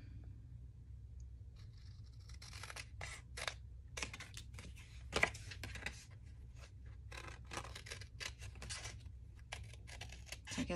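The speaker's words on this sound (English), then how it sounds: "We're going to cut this part off." Scissors snip through paper while a small pocket and 45 record sleeve are trimmed, giving a run of close, quiet cuts and rustles in irregular bursts over a low steady hum.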